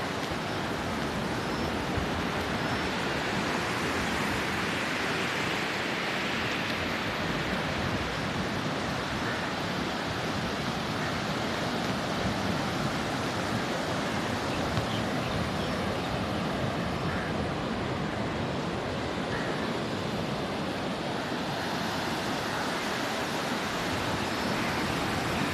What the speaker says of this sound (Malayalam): ഒരു ഇളകി കിടക്കണ, അതാണ് തിരമാലകളൊക്കെ കൂടുതലുണ്ട്.